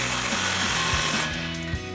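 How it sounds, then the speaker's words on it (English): An impact wrench with a 15 mm socket tightens a tailpipe exhaust clamp on a Jeep Gladiator JT, giving a continuous rattling whir with rapid hammering pulses close up, then easing off near the end. "Same thing, impact and 15 millimeter socket."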